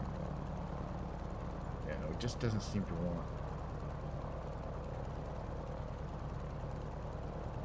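A simulated aircraft engine in Microsoft Flight Simulator drones steadily throughout, a constant low hum and whine from a plane on a moving carrier, with someone briefly speaking over it.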